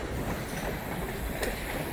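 A train rolls across a bridge over a river in Wyoming, heard as a steady, loud broadband rumble with a faint rhythmic rattle and one brief sharper clank near the end, with no talking.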